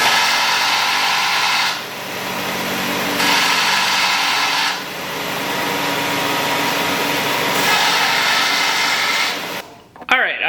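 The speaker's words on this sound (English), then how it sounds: "we will use the belt sander here, and we will squeeze the trigger and rotate the thing until the cap comes off." A belt sander grinds off a fuel injector cap on a Pontiac Sunbird, a loud, steady close-up whine that dips briefly a few times as the tool is rotated, then cuts off abruptly at the end.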